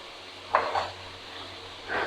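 Water splashes into a pan of frying onion and ginger-garlic masala for fish biryani, raising two brief hissing sizzles about a second apart over a faint steady kitchen hum.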